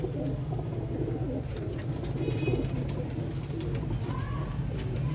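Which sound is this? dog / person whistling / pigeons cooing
pigeons cooing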